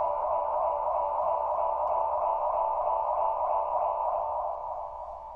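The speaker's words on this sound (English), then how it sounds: "I'm going to go back to a higher bias here to get a really nice kind of band passed effect on the repeats" Tape echo repeats from a Strymon El Capistan pedal set to high bias, a narrow band-passed midrange tone droning steadily and fairly loud before thinning and fading slightly at the end.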